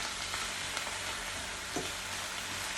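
Spinach sautéing in a pan, a soft, steady sizzle with a faint hiss and an occasional light stir, close but quiet and unbroken.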